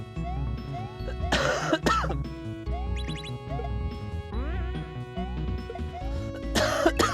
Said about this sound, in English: I don't mean to be coughing in your face